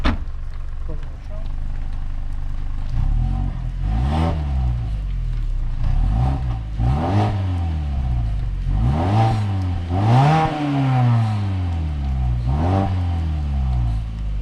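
A 2021 Mazda 6 with a 2.5-liter 4-cylinder engine revs up repeatedly in rising sweeps, loud and close, each burst of acceleration climbing in pitch before dropping back.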